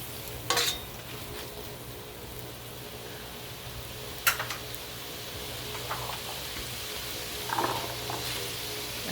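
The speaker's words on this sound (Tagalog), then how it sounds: "Haluin ng mabuti." Beef callos with ground black pepper and tomato paste being stirred in a pot, a faint low simmering bed broken by a few sharp scrapes and clinks of a utensil against the pan.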